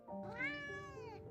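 A cat gives a single clear, rising-and-falling meow, close and quiet, alone.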